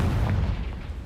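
A Confringo spell blast in the Hogwarts Legacy video game, one short dull explosive boom that fades quickly.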